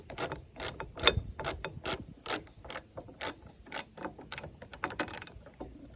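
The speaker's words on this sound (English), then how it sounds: "And then I can also ratchet if I want." A dual action socket wrench ratchets in quick bursts of sharp clicking, close and clear, with short pauses between strokes while tightening a kayak hauling setup.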